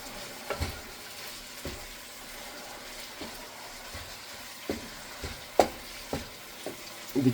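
Ground meat frying and being stirred in a pan for a chili burrito, a soft steady sizzle broken by scattered scraping clicks of a utensil against the pan.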